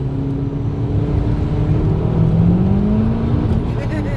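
A tuned Saab with an aftermarket exhaust and open air filter pulls hard under acceleration, a loud, steady engine drone with rising pitch heard from inside the car, continuous throughout.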